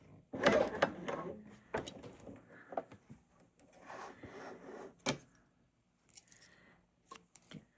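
A Bernina L620 coverstitch machine sews a single-needle chain stitch hem, running in several short bursts of mechanical whirring and ticking with pauses and small handling clicks between, close by.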